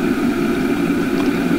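Steady low engine drone from a tractor about to be used for pulling boxes, a continuous rumble with a strong low hum, close and constant, with no talk.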